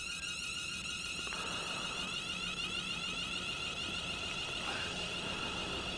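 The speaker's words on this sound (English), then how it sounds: "I think this one sounds like an alarm going off." A train's alarm sounds in Train Sim World 6, a steady high-pitched electronic tone pulsing over a quiet cab background, with a brief click partway through; no talk.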